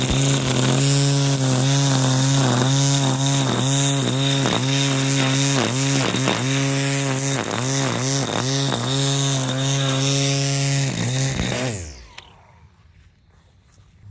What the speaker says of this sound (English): So I'm going to give this weed whacker a try and see how well it does.